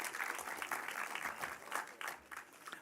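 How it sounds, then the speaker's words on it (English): Faint applause from an awards ceremony audience for apprenticeship nominees, uneven clapping with individual claps standing out, quiet and somewhat distant. "Should we give the level 2 nominations a round of applause?"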